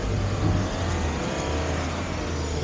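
An INEOS Grenadier 4x4 climbs an off-road trail in second gear, its engine pulling with a steady, close, rumbling roar over a continuous broadband drone of tyres and terrain.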